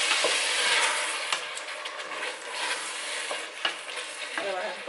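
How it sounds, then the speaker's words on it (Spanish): Chopped tomato sizzles steadily in a hot pan while being stirred for a homemade pea stew, with close, continuous frying hiss broken by several sharp scraping strokes of the utensil. "Vamos a añadirle ahora el tomate. Lo removemos un poquito."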